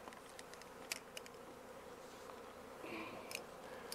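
A bee swarm settles onto queen cages outdoors, giving a faint, steady insect hum with a few brief clicks and rustles over quiet background noise.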